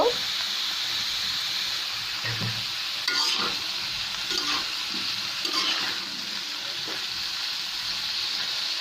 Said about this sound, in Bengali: আমি এভাবে করে কিছুক্ষণ শাকটাকে রান্না করে নেব